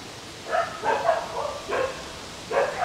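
Dogs barking at a property line, several sharp nearby barks in irregular bursts with short gaps between them, some yips mixed in, no talking.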